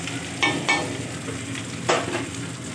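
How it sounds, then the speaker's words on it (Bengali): Prawns frying in a pan with a steady low sizzle, broken by a few brief louder bursts of stirring or turning; no voices. "যেহেতু চিংড়ি মাছের পরিমাণ আজকে বেশি আছে, তাই ভাজতে বেশি সময় লাগলো না"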